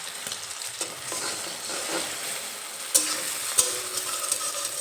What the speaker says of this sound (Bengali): ডিমটা একটু হয়ে আসলে খুন্তি দিয়ে নেড়ে চেড়ে এই ডিম একটু ঝুরি ভাজার মতো করে নেব